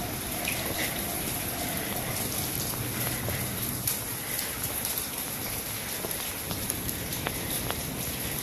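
Heavy rain falls steadily across a backyard, a dense, even hiss of drops on surfaces with no break and no voices.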